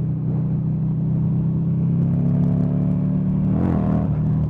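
A Buell XB9SX motorcycle engine while riding, a loud, steady low rumble with a brief rise in revs near the end, continuous and close, no voices.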